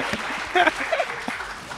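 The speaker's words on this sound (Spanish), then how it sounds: "Un aplauso." Brief applause from a studio audience on a show, light clapping mixed with a short chuckle and nearby voices.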